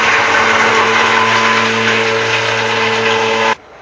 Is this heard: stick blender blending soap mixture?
yes